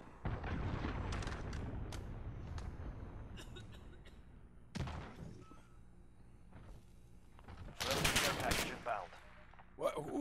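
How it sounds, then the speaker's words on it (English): Gunfire rings out in a Call of Duty Modern Warfare match on the St Petrograd map: bursts of rapid shots, single cracks and a loud flurry near the end, with brief voice chatter mixed in. "Who was shooting like that?"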